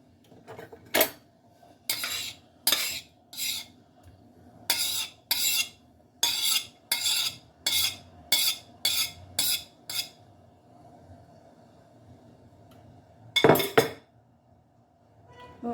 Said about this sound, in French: Et je viens touiller avec une grande cuillère.